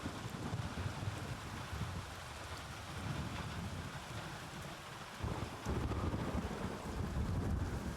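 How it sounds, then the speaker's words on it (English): Heavy rain pours steadily in a Gray Zone Warfare match on Lamang Island, with low thunder rumbling underneath and swelling louder near the end; no voices. "And it is pouring out there."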